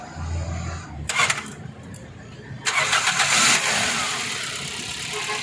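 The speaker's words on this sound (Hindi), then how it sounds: "अभी हम फिर गाड़ी को लगाएंगे" A Toyota Corolla engine cranks and catches after an ECU coil repair, a short crank burst followed by a louder start that settles into a steady idle in a workshop.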